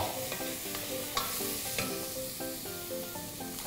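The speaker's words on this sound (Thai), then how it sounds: "หลังจากนั้นใส่เจ้าตัวเห็ดที่ซอยสไลด์นะครับลงไป ผัดต่อ" Sliced mushrooms stir-frying in a hot pan for a creamy mushroom soup: a continuous crackling sizzle with a few spatula knocks, under soft background music.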